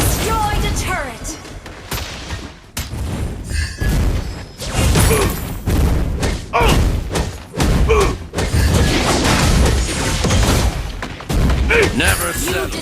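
Mobile Legends match in which a turret is destroyed: loud, dense bursts of game explosions, thuds and booms in quick succession, with a game announcer voice speaking over the action.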